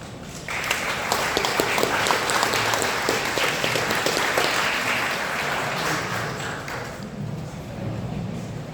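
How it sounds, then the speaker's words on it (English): A crowd at a community meeting bursts into applause, a dense wash of clapping that holds steady for several seconds and then thins out toward the end. "A short round of applause."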